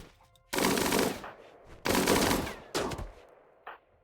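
Colonists shooting at each other in RimWorld, heard as three loud bursts of rapid automatic gunfire about a second apart, then a short final shot, with quiet gaps between.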